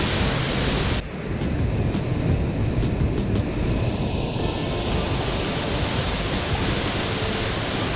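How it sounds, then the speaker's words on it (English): MacMay Waterfall near Georgetown, St. Vincent, roars as a loud, steady rush of falling water, close by and continuous throughout. "We can see some beautiful waterfall."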